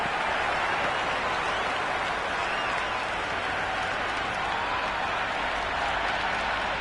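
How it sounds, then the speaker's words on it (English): A packed cricket stadium crowd in the video game Cricket 26 cheers in a steady, dense roar that holds loud and unbroken throughout, with no distinct voices breaking through. "There's a buzz, a real buzz coming from the stands."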